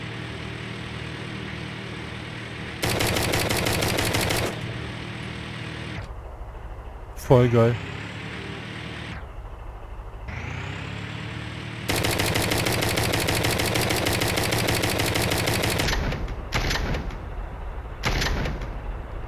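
Vehicle-mounted guns fire in Brick Rigs, the blocky Lego-style driving game, in long loud sustained bursts separated by pauses and a sharp blast, with someone talking excitedly over parts of it.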